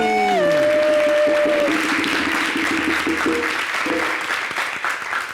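Studio audience applause on a French TV variety show, steady crowd clapping with a few cheers, starting under a sung or shouted voice and fading slightly toward the end.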